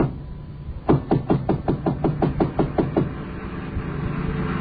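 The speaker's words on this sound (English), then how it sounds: "And I knocked on the door." Someone knocks on a door in a quick, steady run of about a dozen hard raps, close and distinct over a low background hum.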